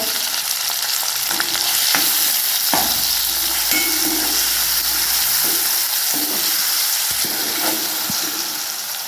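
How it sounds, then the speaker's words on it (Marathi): Finely chopped tomato goes into a pan where chopped green chili is frying in oil. A loud, steady sizzle runs throughout, with a few sharp clinks and scrapes of stirring and no voices. "आता आपण बारीक चिरलेला टोमॅटो टाकूया"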